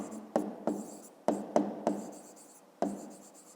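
Pen or pencil writing numbers for a fifth-grade math exercise, six short, crisp strokes at uneven intervals, close and fairly quiet with no talking.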